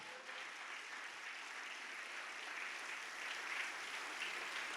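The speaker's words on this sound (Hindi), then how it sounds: "ताली बजाएंगे जोर से" A congregation at a fasting prayer service claps loudly together, producing a steady, dense wash of applause that holds for several seconds with no voice over it.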